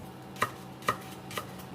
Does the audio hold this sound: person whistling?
no